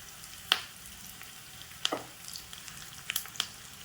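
Spices for tempering, along with onion and curry leaves, fry in oil with a quiet, low crackling sizzle broken by a few sharp pops and spatters, close and without speech.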